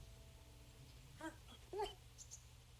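Dog whimpering in the medieval video game Kingdom Come: Deliverance, two short soft whines about half a second apart over a quiet low ambient hum.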